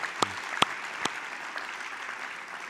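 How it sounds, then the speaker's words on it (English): Audience applause for school kids at a school event: steady, moderately loud clapping from a seated crowd, with a few sharper, louder claps standing out near the start before it settles into an even patter. "Stand up, we'll give you a round of applause."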